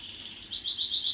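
A small songbird sings a short chirping phrase of bright, rapid, repeated notes. It sounds fairly close against quiet background hiss, with no one talking.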